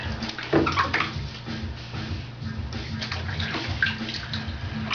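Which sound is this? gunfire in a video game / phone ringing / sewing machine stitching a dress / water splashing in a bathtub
water splashing in a bathtub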